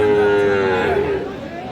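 A Jersey cow at a busy cattle market lets out one long, loud moo that bends and fades over about a second, with faint crowd chatter underneath.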